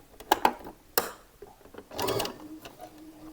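Home sewing machine stitching a flared summer skirt closed, heard up close in short bursts with a longer whirring run, no talk over it.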